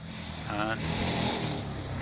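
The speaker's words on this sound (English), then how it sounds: "we hear one of the more modern racing cars, the Jedi of John Bunting, just coming down to the start line now, warming his tyres." A modern Jedi single-seater racing car idles and blips its engine while warming its tyres near a hillclimb start line, a steady engine drone heard at moderate distance beneath continuous commentary.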